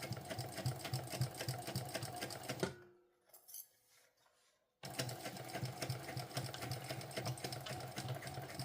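A sewing machine, worked on a sling pouch, runs in a fast, steady rattling stitch close by, pauses for about two seconds with faint clicks, then resumes at the same pace to the end.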